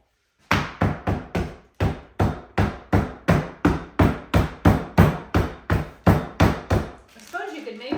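A chef's hammer pounds cookies into crumbs for a coffee cake, about fifteen sharp, evenly spaced knocks in a brisk steady rhythm, close and loud, followed by a brief scraping rustle at the end.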